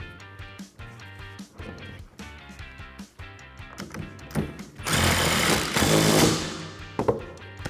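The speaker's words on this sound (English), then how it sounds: "if you are going to use an impact gun like we are, just make sure that you don't over tighten" An impact gun tightening the composite strut spacer bolts on a Ford F150 during a leveling lift install, with rattling bursts, then a loud sustained hammering run near the end, close up.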